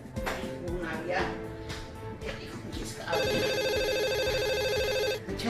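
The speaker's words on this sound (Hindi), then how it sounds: "फोन आ गया।" A telephone rings with a steady warbling electronic trill that starts partway through, loud and close, following a stretch of people talking.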